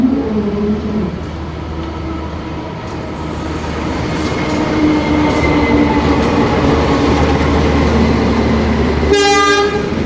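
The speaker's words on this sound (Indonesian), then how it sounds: "dari arah timur masuk sebuah kereta api" The Majapahit passenger train rumbles steadily past at close range as it arrives at a station in Indonesia, wheels grinding on rails, with a sharp horn blast near the end.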